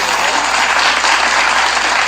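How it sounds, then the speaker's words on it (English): Loud, close, continuous clapping greets a podcast guest, a dense unbroken burst of applause lasting about two seconds with no talking over it. "Round of applause to the queen"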